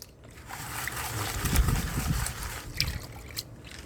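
Clear water sloshes and swirls in a gold pan as paydirt is worked, a continuous close splashing with rhythmic surges and small trickles.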